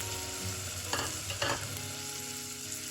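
Mixed vegetables of peas, carrots and green beans are stirred in a hot pan, giving a steady low frying sizzle with two brief louder scraping bursts partway through; no one talks.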